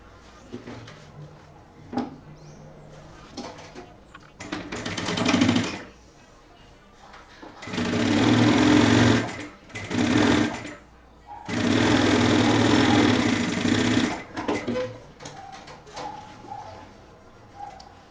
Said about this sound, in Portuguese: A gente vai costurar aqui bem certinho.